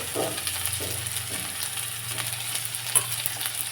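Turmeric goes into hot oil tempering with garlic for dal, setting off a steady close sizzle and fry crackle that runs alone throughout, with a sharp brief pop near the end.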